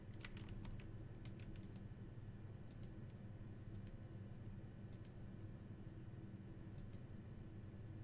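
Keystrokes from a cheap $10 USB HP computer keyboard click in short bursts and single taps, close and fairly faint over a steady low background hum.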